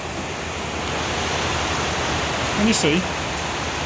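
Torrential rain pours down outside in the Philippines, a dense, steady roar of water with gutter overflow, while a voice speaks briefly over the downpour.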